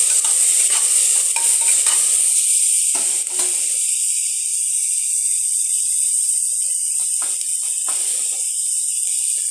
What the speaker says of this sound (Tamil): குட்டி குட்டி தக்காளி ரெண்டு மூணு தக்காளி கட் பண்ணி வச்சுருக்கிறேன் அதையும் போடுறேன்